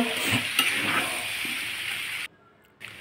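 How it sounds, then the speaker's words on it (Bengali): Masala and tomato sauce stirred in a frying pan, a steady close sizzle with light scraping that runs for about two seconds, then drops almost to silence before a brief return. "টমেটো সস দিয়ে দিলাম, আর টমেটো সসের মধ্যে একটু নুনও থাকে, সেজন্য নুনটা একটু আমি কমই দিয়েছি, যেহেতু টমেটো সসের মধ্যে নুন থাকে। দেখো নাড়ছি, ভালো করে নাড়িয়ে নেবো।"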